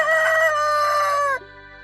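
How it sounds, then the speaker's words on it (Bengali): A rooster crows once, loud and close, a single long drawn-out call that ends abruptly, followed by quiet. "এটা হলো মোরগ। মোরগকে ইংলিশে বলে কক।"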